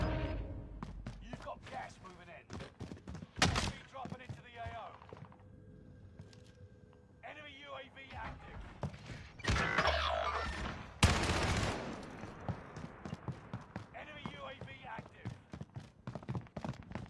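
Gunfire in the GTA RP game, repeated sharp shots in loud bursts scattered through the stretch, mixed with talk and other game noise.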